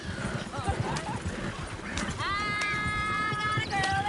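Clip-clop of horse hooves pulling a wagon in a video game, a steady rhythmic trot under people talking, with a horse whinnying and tonal music or singing rising toward the end.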